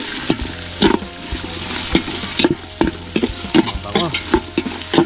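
Chili, garlic, onion and ginger stir-fried in a pan: steady close sizzling broken by repeated scraping stirs of the spatula, several sharp clatters spread through the stretch.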